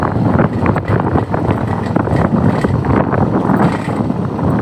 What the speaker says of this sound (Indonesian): Anginnya juga agak kencang ya, angin agak kencang.